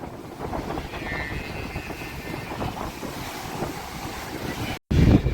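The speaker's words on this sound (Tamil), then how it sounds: "இந்த அலை வந்து எப்படி அடிக்குதுன்னு பாருங்க" Sea waves break and wash along a disaster-hit shore where boats are moored, a steady roar of surf and rushing water with wind buffeting the microphone throughout, then a brief dropout followed by a louder close surge.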